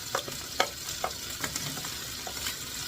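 Onion and garlic sizzle in a pan with browning chicken for paella, a steady close frying hiss broken by repeated scraping stirs, no talking.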